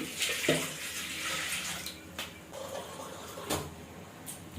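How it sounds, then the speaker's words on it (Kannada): Water pours steadily into a vessel, splashing and gurgling, with a few clinks and knocks of utensils nearby. "ಇವಾಗ ಇದಕ್ಕೆ ನಾನು ನೀರನ್ನ ಹಾಕ್ತೀನಿ ನೀರನ್ನ ಹಾಕ್ತಾ ಇದ್ದೀನಿ"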